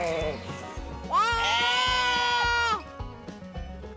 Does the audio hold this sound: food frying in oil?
no